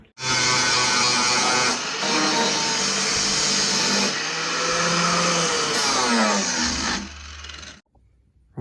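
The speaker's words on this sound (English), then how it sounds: "Rightio, so we've got that all sanded up." Power sander on the engine bay of a Holden Calais wagon, a loud, close, continuous motor roar with shifts in pitch as it works, cutting off near the end into near silence, with no talking.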